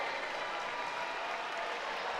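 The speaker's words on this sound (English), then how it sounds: "The Badger faithful cheering on the home team" A home crowd of Badger fans at a women's college volleyball match, Wisconsin against UC Davis, cheering and clapping in a steady, broad wash of applause with no pauses.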